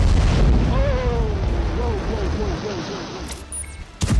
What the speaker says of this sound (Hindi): अचानक धमाके की आवाज आई